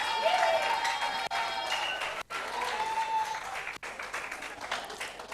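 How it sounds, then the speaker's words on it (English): An audience at a national newsroom contest gives sustained applause: dense, continuous clapping from a large crowd indoors, with a few brief dips in intensity. "please clap for KIU one more time"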